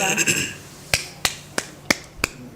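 One person at a city council meeting claps slowly and alone, five sharp separate claps spaced evenly in a quiet room, with brief talk at the start.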